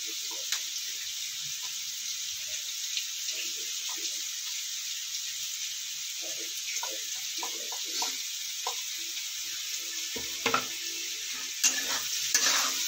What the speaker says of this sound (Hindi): इसको धीमी आंच में पकाएंगे।